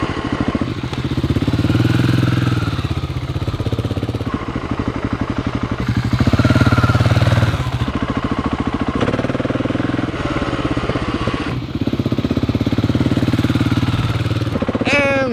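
A single-cylinder motorcycle fitted with an IXIL Sove Hexoval Xtrem Evolution slip-on exhaust runs close by with a steady, throbbing thump, rising and falling through several revs and blips over about fifteen seconds, loud and unbroken.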